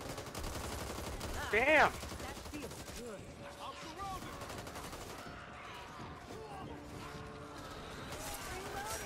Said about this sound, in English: I am getting shot by a lot of people right now